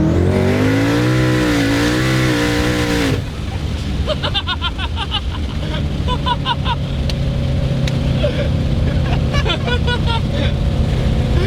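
A 1200-horsepower twin-turbo Mustang GT launches hard and rips up through its gears on a street, a loud engine roar with rapid shift breaks and a possible tire chirp, while voices talk over it.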